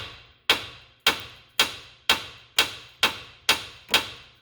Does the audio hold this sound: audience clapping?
no